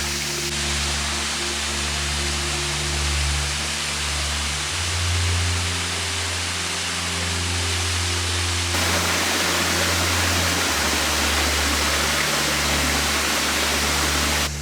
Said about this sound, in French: Là-bas, je vois une cascade, on va aller voir.